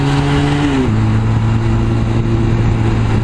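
A motorcycle rides through downtown Phoenix at night, its engine giving a steady, loud, close drone that drops in pitch partway through, then holds a smooth, even hum.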